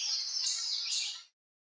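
A bird chirping effect auditioned while building sound for a horror game: a bright, continuous twittering trill that runs for just over a second and then cuts off abruptly, with no talk over it.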